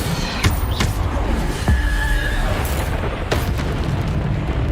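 Repeated booming spell blasts from the Bombarda curse in Hogwarts Legacy, several sharp explosive hits spaced a second or so apart over a steady rumbling game background.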